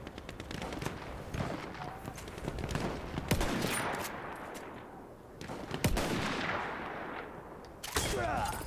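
Rapid gunfire in the video game Battlefield 1, with dense bursts of automatic shots and sharp single cracks layered over a constant battlefield roar, some shots close and loud, others more distant.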